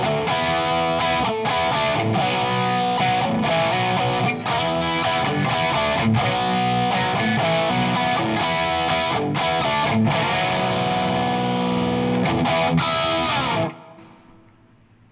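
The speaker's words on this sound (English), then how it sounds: "Let's do that same thing on the neck the bridge pickup, but we're gonna boost it." Boosted electric guitar on the bridge pickup through a 50 watt amp with a noise suppressor and a touch of reverb: dense, distorted chords and riffs played steadily and loudly, stopping abruptly near the end into a short fading tail.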